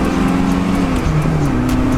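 An old car's engine revs in a steady, close rumbling drone with slight pitch shifts, loud and continuous throughout.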